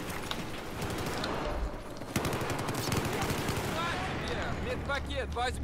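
Gunfire in the Battlefield 4 multiplayer map Operation Lockers rattles in quick bursts, sharp single shots and automatic fire from an AUG rifle mixed with distant battle noise, while a player talks over it.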